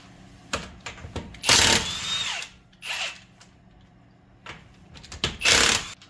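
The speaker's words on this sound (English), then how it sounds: "we're going to take it off using our impact gun" An impact gun takes the 22mm lug nuts off a 2014 Chevy Traverse during rear brake work. Several loud, close whirring and hammering bursts come with short gaps between them.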